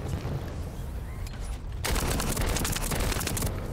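Rapid gunfire rattles in The First Descendant as turrets and an enemy's weak points are targeted, a dense continuous burst that gets louder and harsher partway through.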